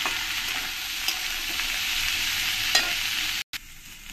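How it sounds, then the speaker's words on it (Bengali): Potatoes and cut flat beans sizzle and fry in a pan while being stirred, a constant hiss broken by occasional scraping clinks of the spoon. "এবার এর মধ্যে যে বটবটিগুলো কেটে রেখেছি এই বটবটিগুলো দিয়ে দেব। দিয়ে আলুর সঙ্গে একটু ভালো করে আমি মিশিয়ে নেব"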